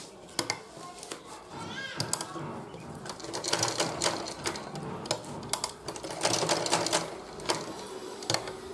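A sewing machine stitches a cloth shopping bag in short whirring runs with pauses between them, close and clear, while someone talks over it.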